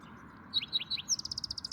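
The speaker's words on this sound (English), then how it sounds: "Teeny little finches." Tiny high-pitched finch chirps, a few spaced calls followed by a quick rapid series of bright tweets, nearby and clear over quiet background, in a garden in Santa Fe.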